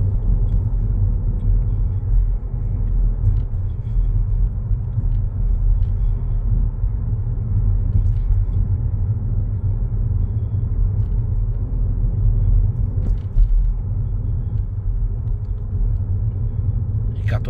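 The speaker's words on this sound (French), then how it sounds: "et là on réaccélère pour monter au maximum autorisé" A car engine rumbles steadily and loudly throughout a driving lesson as the vehicle accelerates up to the speed limit, a constant low drone with road noise and no clear voices.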